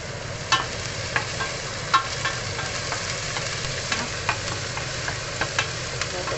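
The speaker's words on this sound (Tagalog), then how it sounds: "Fry tayo muna ng sibuyas." Onions fry in a pan for pork sinigang, giving a steady sizzle with occasional spoon taps and stirring clinks over a low background hum. No one speaks.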